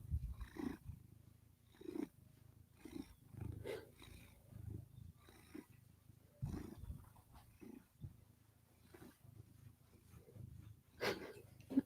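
Luna the cat purrs while being petted, a soft rhythmic rumble in repeated low pulses, close and quiet, with a few louder breathy bursts.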